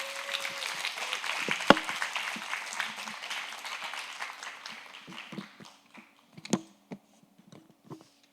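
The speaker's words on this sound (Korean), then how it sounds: "윤희삭 전도사님을 박수로 모시겠습니다" A church congregation at a Korean Baptist youth worship service applauds to welcome a speaker. Dense, steady clapping fills the first five seconds, then thins into scattered, louder claps before fading out.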